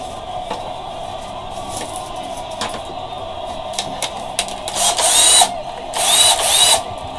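Battery-powered drill used in a guitar workshop for polishing frets, heard as short intermittent bursts and ratcheting clicks building to two louder, sustained whirring runs near the end.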